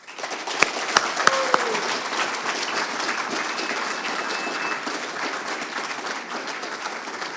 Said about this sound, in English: I want you to join me in congratulating with a round of applause.